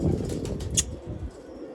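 Wings flapping and short coos from a pigeon of the Rajan bloodline as it struggles in a handler's grip, close and lively, with a sharp flutter burst midway.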